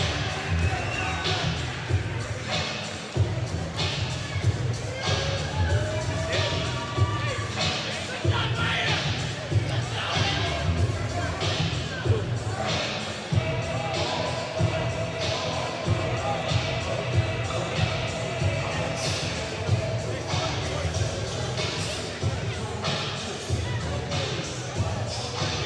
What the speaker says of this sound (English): The crowd showing their appreciation.